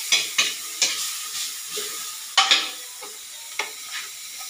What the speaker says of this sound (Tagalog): So gigisayin lang natin ng konti.